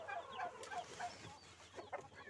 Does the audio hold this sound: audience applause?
no